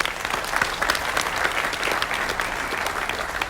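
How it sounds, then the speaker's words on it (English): Audience applause at a leadership talk, a steady dense wash of many hands clapping that holds at an even level throughout, with no voices over it. "Give her a round of applause"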